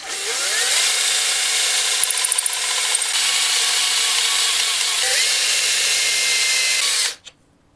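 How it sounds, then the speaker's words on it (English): A pen mill end piece on a power drill reams a wooden pen blank down to its brass tube, giving a loud, steady whirring grind with scraping for about seven seconds before cutting off abruptly. "this end piece reams it until it reaches the brass"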